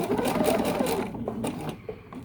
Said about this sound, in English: I'm going to go ahead and sew just past this fabric, so I make sure I've got a good tight hold there with the stitching.